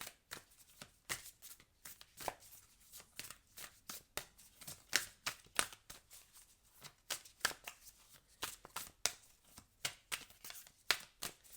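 Oracle cards being shuffled by hand, a long run of quick, crisp riffling slaps and flicks in an uneven rhythm, close and fairly quiet, with no voice over it.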